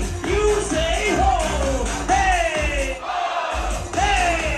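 A nightclub crowd in Ayia Napa yells back in a call-and-response chant, repeated loud shouts rising and falling over thumping music, voices dense and close.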